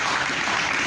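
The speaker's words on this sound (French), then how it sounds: "Applaudissons notre Dieu." A church congregation applauds, dense steady clapping filling a brief moment at full loudness, with no break or gap.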